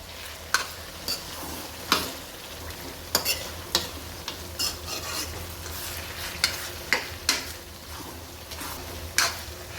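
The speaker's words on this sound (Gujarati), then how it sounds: "આ બધાને સરખું મિક્સ કરી લઈએ" Onion and green chillies being stirred together in a pan, a steady soft sizzle of frying broken by repeated sharp scrapes and taps of a spoon against the metal, close and alone with no voices.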